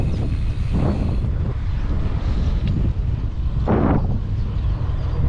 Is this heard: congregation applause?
no